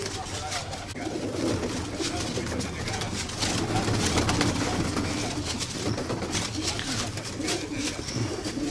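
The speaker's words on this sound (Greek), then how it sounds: "κοιτάξτε τώρα εδώ αυτό το περιστέρι" Pigeons coo at a pigeon club loft in Drapetsona, a low, repeated murmuring set against steady, noisy background ambience throughout.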